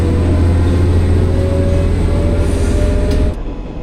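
Train running on a rural line in Japan, a loud steady rumble with rolling wheel noise heard from inside, easing and quieting near the end.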